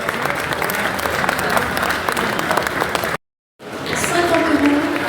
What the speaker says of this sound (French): Nicolas, des applaudissements pour Nicolas.